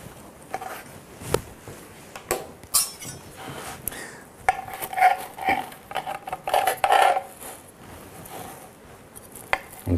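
Toasted sandwiches being lifted out of a Waring Deep Fill Sandwich Maker, giving scattered clinks, taps and light metallic knocks at close range, with a few brief ringing scrapes in the middle.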